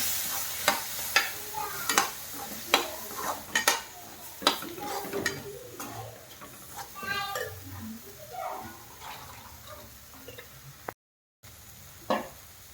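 A utensil stirs boiled batna vegetables in a pan, producing sharp, irregular scrapes and clinks against the metal over a low background of soft cooking sounds, with a brief dropout near the end.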